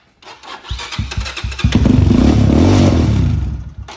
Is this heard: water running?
no